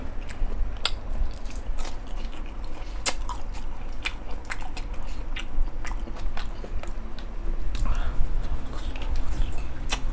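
Raw shrimp marinated in fish sauce being eaten up close: wet chewing and crunchy bites repeat irregularly across the whole stretch, with faint background hum.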